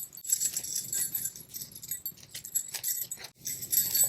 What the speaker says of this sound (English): Got some little bells on there.